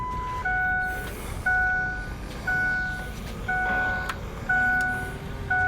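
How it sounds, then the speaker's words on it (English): Repeated pairs of short electronic beeps at regular one-second intervals over a low, steady engine-like hum from the fuel pumps of a 1978 Ford Econoline van; no talking. "Sounds like the fuel pumps are working"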